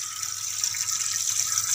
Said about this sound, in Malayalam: ഇപ്പൊ പൈപ്പത്തെ വെള്ളം നിറയ്ക്കാണ്